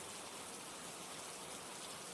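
Rain falls as a sound effect in an animated horror story, an even, faint wash of drops that holds steady throughout with no voices.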